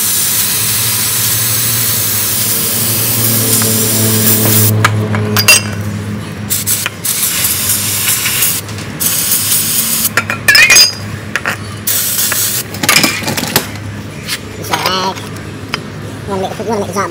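Lubricant spray hisses in a long, loud continuous burst on the lower engine mount of a 2008 Chevy Uplander, then breaks into short clinks and scrapes of metal.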